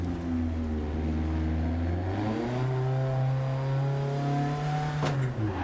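A rally car engine in the Dirt 2 VR racing game revs hard after a downshift, a loud, steady mechanical drone whose pitch climbs smoothly, with no talking over it.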